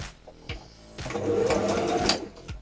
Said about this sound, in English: you're going to sew 1 centimetre away from the edge